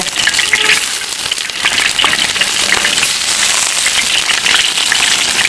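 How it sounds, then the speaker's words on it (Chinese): Big river fish frying in oil in a pan: a loud, steady, close crackling sizzle with dense spattering pops throughout, and no talking. "把这几条大大的鱼炸一炸"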